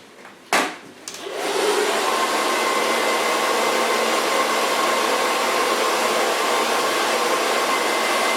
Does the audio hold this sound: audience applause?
no